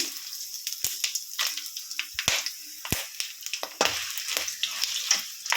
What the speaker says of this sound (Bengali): এবার এগুলো আমি যা যা দিয়েছিলাম ফোড়নের জন্য সবটা ফোড়নে দিয়ে দেব।